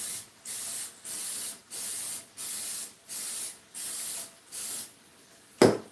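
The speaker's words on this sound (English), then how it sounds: "I'm going to spray them down with some more" Olive oil is sprayed onto squash chips in seven even, close bursts of hissing mist, each about half a second with short gaps, ending in a brief sharp clatter.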